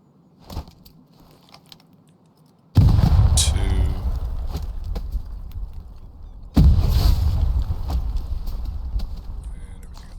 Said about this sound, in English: here's a grenade